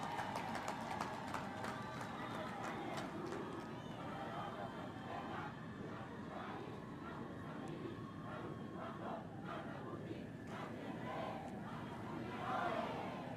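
Crowd at an official World AIDS Day event attended by President Samia Suluhu Hassan applauds and cheers, a steady dense clapping and crowd roar heard at a distance for over ten seconds.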